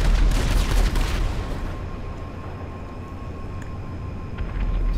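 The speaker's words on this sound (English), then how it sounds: "Something wildly exploding somewhere." Dense rumbling blasts and crackling bursts from explosions in GTA 5 Online pile up at the start, then ease into a steady low roar with a faint tone running through it.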